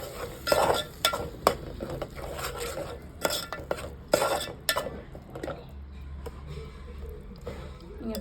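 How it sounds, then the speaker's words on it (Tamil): Paneer masala being stirred in a cooking pan, with repeated scraping and clinking of a utensil against the pan in irregular bursts, close and moderately loud, over a faint sizzle. "இப்போ இதை நல்லா கிண்டி விட்டுக்கலாம்."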